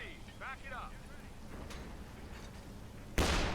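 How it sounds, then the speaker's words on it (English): A 45mm anti-tank gun firing in a modded video game: a single sudden, loud blast bursts out near the end after a stretch of quieter background sound and a talking voice. "45mm anti-tank gun."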